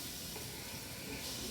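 Onions sauté in a pan for shrimp and feta rigatoni, giving a steady, close, broadband sizzling hiss that runs unbroken throughout with no talking over it.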